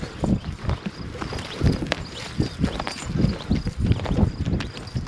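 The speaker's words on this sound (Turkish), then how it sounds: "Çiftliğin eşekleri bunlar." Donkeys' hooves clopping irregularly on the ground as several walk past at close range on a farm, with scattered rustling in between.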